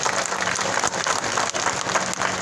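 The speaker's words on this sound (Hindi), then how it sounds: "उनके लिए एक बार ताली बजा के स्वागत कीजिए" Crowd at a political rally in Gorakhpur clapping in welcome, a dense, steady wash of applause filling the whole stretch without pause.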